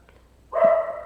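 One dog gives a short, sharp, close bark that starts abruptly after a moment of quiet and then rings on briefly in a small indoor room.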